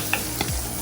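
Ginger garlic paste hitting hot oil in a pan for a chicken curry, a brief close crackle with a couple of light clicks over a steady sizzle.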